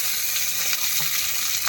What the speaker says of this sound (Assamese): এতিয়া পিঁয়াজ জলকীয়া দিওঁ আৰু পিঁয়াজটো আগতে ভাজি কৰি লওঁ